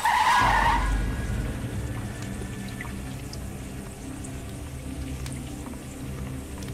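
A car's tires squeal briefly as it pulls away, then a steady engine rumble continues at moderate level as it drives off.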